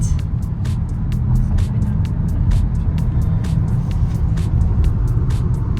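A car crosses a one-way bridge in Scotland, with a loud, steady road rumble and a rapid, regular ticking as the tyres roll over the deck.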